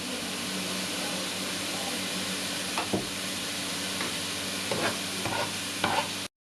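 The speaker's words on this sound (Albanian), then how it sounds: "Do skuqim paksa qepën që të marrin ngjyrë" Onion frying in plenty of oil in a pan while being stirred: a steady, even sizzle throughout, with a few scraping spoon strokes toward the end before it stops abruptly.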